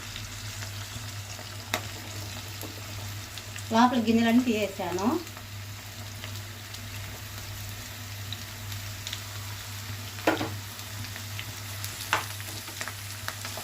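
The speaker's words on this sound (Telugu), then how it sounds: "ఇప్పుడు కాకరకాయ ముక్కలు కూడా వేసేద్దాం" Bitter gourd pieces and onions fry in a pan for a Telugu kakarakaya curry, giving a low, steady sizzle over a constant hum, with a short stretch of speech partway through.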